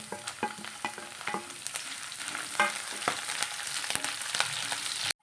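Curry leaves, ginger and green chillies crackle and sizzle in hot oil for a garlic pickle, a steady close frying hiss broken by sharp pops and spoon scrapes, with no voices.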